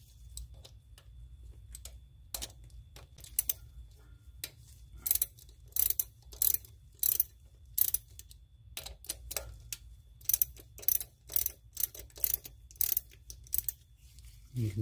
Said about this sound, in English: grab your ratchet and your 5/16 socket. Loosen that.